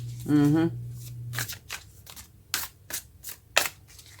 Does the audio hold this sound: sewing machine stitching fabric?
no